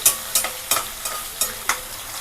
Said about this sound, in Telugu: అది వేగుతూ ఉంటుంది